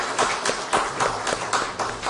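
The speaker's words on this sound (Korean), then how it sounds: "은혜로운 찬양을 해주신 우리 성가대 친구들에게 감사와 격려의 박수하겠습니다." A congregation at a Hanyang University chapel service applauds the choir. Dense, steady clapping with irregular surges swells and dips across two seconds.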